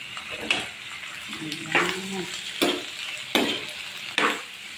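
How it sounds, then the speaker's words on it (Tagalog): Squid sautés in a pan with cooked onion, garlic and ginger, a soft sizzle broken by several sharp clanks and scrapes of stirring, close and moderately quiet. "Luto na yung ating sibuyas, bawang at luya. Ilagay na natin ang ating mahiwagang pusit."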